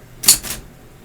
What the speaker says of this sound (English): Let's just do a quick typing demonstration here.